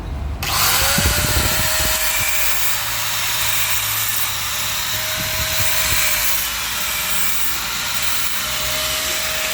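An angle grinder works on the lip of a Mitsubishi Montero Sport starter motor housing, whining loudly and steadily for the whole stretch with a few rougher bursts where the disc bites into the metal.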